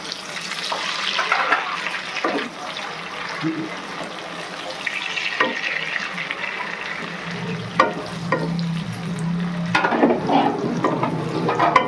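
Chopped onion, tomato and capsicum tipped into a hot pan of garlic chicken gravy, giving a steady soft sizzle with occasional scrapes and clinks of a spoon, no voices.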